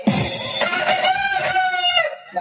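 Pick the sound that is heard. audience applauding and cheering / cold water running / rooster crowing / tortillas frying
rooster crowing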